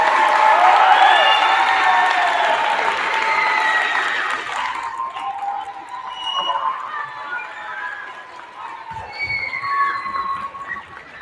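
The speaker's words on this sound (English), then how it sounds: "students, parents, a round of applause for our principal, Scott Hines." Students and parents applaud at a sixth grade awards assembly, a broad wash of clapping and crowd noise that is strongest at the start and then settles into steadier, softer applause with some voices mixed in.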